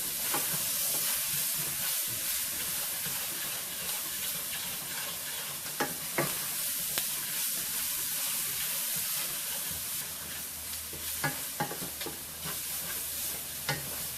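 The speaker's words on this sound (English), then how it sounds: "Get it all fried around." Cube steak fries in a hot pan with a steady loud sizzle and hiss, broken by a few scraping stirs and light clicks of a utensil throughout.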